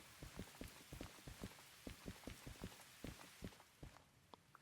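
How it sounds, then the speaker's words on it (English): Rain in the train simulator game Derail Valley, a faint steady patter with irregular sharper drops tapping a surface, quiet and alone. "Of course it's raining."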